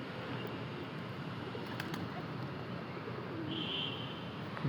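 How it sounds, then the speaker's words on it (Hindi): Pigeons on a home rooftop coo softly and continuously amid steady outdoor background noise, with a brief higher call near the end. "हमारी छत का सबसे पुराना कबूतर है ये"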